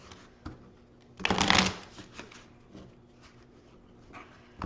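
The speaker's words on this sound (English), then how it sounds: "I'm shuffling cards so that I can lay them here on our spread" Tarot cards being shuffled give a quick, close riffle burst that lasts about half a second, with soft handling rustles before and after.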